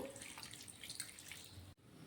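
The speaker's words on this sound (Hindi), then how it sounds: "अब गुड़ पे हम डाल देंगे 1 कप पानी।" Water poured from a cup onto a lump of jaggery, a steady splashing trickle at close range that stops abruptly near the end, with no talking.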